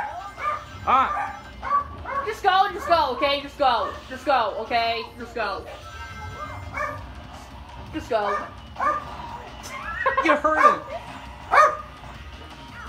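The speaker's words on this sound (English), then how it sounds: "It's my dog who won't shush." A pet dog barks and yips repeatedly, close and loud, interleaved with whimpering whines while a person talks over it.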